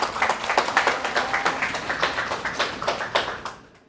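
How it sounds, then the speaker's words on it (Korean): A small audience claps to welcome a speaker at an organic farming expo talk, with distinct, fairly close individual claps in a quick, uneven rhythm that fade out near the end. "큰 박수 부탁드리겠습니다."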